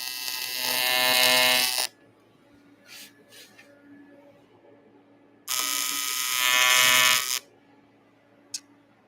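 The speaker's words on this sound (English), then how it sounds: "Let me tack this real quick." TIG welder tack welding aluminum, two loud buzzing arcs of about two seconds each separated by a quiet pause, with a brief click near the end.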